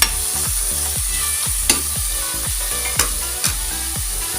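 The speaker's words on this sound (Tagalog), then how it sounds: "gisa-gisa muna natin siya para lalong masarap ang ating" Chicken sautéed with shrimp paste in a pan, a steady loud sizzle under repeated stirring scrapes that come in a regular rhythm, with a few sharper clinks of the utensil against the pan.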